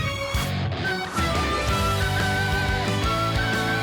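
Xenoblade Chronicles 3 unique enemy battle theme in its intense variant, played once the enemy's health drops below half: loud, dense, driving orchestral game music that continues without a break and with no talking.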